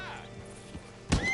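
A horse whinnies briefly with a hoof thump in Red Dead Redemption 2, followed by a sudden burst of noise, set against a faint game background.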